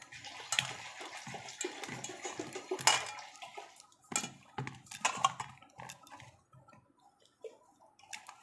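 Water sprinkled into eggplant cooking in a hot kitchen pan gives bursts of sizzling and splashing, loudest early on, then settles into softer, sparse crackles.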